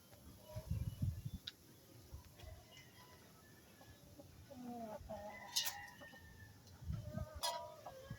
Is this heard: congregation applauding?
no